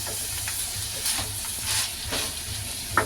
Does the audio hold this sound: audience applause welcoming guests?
no